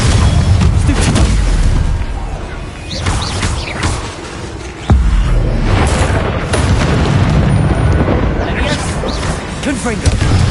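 Explosive Confringo and Bombarda spell blasts in Hogwarts Legacy, loud booming bursts layered densely across a continuous game battle din, with a sharp hit near the middle and a voice shouting spell names over it.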